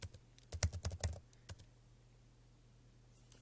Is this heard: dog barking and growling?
no